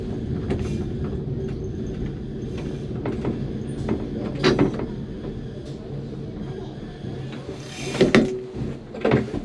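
A Christchurch heritage tram pulls in at stop number 6, with a low rumble under scattered clunks, rattles and door-like knocks, and a louder thump near the end.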